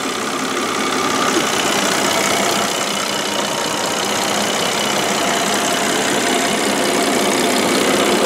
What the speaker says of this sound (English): turbo inline 6-cylinder engine.